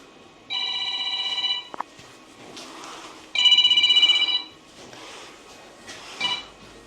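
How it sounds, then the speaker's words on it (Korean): A telephone rings nearby in two electronic bursts separated by a pause, with a brief clatter and quiet room noise between rings. "팀장님 전화 왔습니다."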